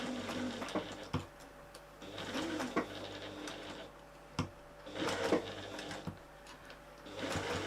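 Domestic sewing machine stitching a cute fabric bag, running in short bursts between pauses with the needle pivoted around a curve, a quiet indoor hum with faint background cooing.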